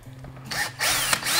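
Power drill boring with a quarter-inch Harbor Freight drill bit, a close whirring drill that spins up, briefly dips, then runs loud and steady in two short bursts.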